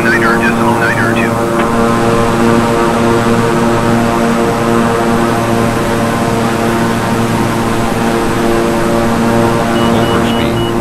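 A Beechcraft propeller aircraft engine in Microsoft Flight Simulator drones loud and steady, with a constant tonal buzz and hum that holds throughout, while a voice gives radio-style approach calls over it.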